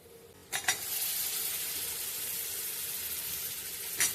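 Bombay duck (bombil) and potatoes frying in a pan on a makeshift stove, a steady close sizzle with a couple of brief stirring clatters near the start and end.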